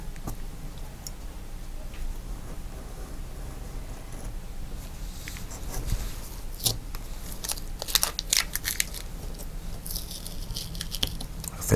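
A blade slicing through masking material makes close, soft crunching and ticking sounds. The cuts come in irregular bursts over a low background hum and grow busier toward the end.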